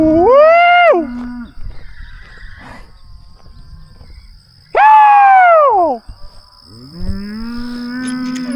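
Mashona cattle moo loudly several times, long drawn-out calls close by, with quieter rustling and distant sounds between them.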